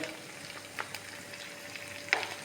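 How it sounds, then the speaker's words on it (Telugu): Onions and tomatoes fry in a pan, a faint even sizzle with a few light stirring clicks and one sharper scrape near the end. "టమాటా ఉల్లిపాయలు అయితే ఏగుతున్నాయి."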